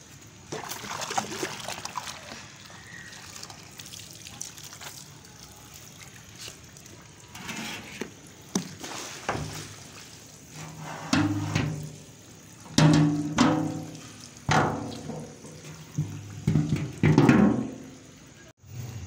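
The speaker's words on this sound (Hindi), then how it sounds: "अभी इनको मैंने साफ़ पानी से धोना है।" Washed blankets rinsed in clean water in a tub, with irregular sloshing and splashing bursts growing louder and more frequent toward the end, close by, no talk.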